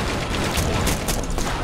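Chaotic explosions and gunfire burst continuously in the co-op video game Scalpers: Turtle and The Moonshine Gang, a dense, loud, crackling barrage of blasts and rattling shots with no pause.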